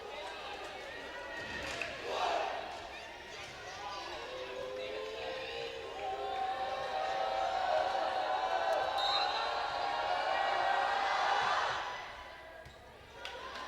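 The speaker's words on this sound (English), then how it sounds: "A lot of build up there from the crowd." A crowd at a girls' varsity high school volleyball match in a gym, a sustained murmur of many voices that swells into louder cheering and then fades, with a ball thump and shoe squeaks mixed in.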